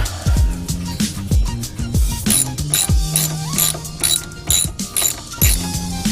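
A ratchet working a 15mm nut off a Dodge Viper GTS ACR sway bar end link: loud, close bursts of rapid pawl clicking in short repeated strokes, with metallic clinks between.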